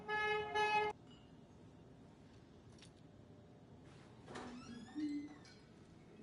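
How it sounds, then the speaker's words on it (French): A car horn honks in Alan Wake 2, a loud stacked tone in two quick blasts at the start, followed by quiet game ambience and faint tonal chirps later. "ça klaxonne"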